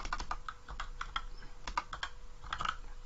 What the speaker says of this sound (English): you can just type in here on the search bar